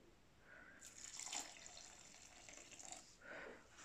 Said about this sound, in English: I'm going to add some water, but I'm going to do it bit by bit